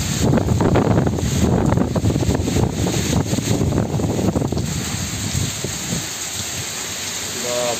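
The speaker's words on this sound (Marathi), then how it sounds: "पण वारा आहे नुसतं, वादळ बोलतात ना, वादळ आहे" Cyclonic storm wind in coastal Konkan roars and buffets the microphone in loud, continuous gusts, with a rushing hiss that eases slightly toward the end.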